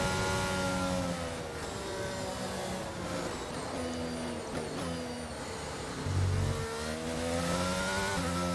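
F1 car engines revving at a race start in the F1 22 video game at Spain, high-pitched whining revs rising and falling over several cars, loud and continuous.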